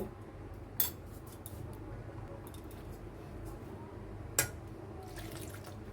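Lukewarm water pours into a bowl for bread dough, a soft continuous trickle and splash, with two sharp clinks of a utensil against the container and no talking.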